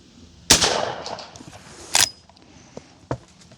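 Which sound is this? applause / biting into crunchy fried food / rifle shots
rifle shots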